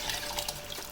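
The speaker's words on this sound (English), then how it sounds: "now I'm gonna add that water which I used to cook mutton in the cooker" Mutton stock saved from a pressure cooker is poured into masala, a brief close splashing gush of liquid that runs steadily without any talking.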